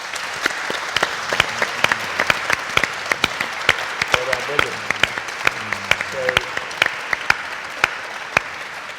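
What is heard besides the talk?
audience applause for a panel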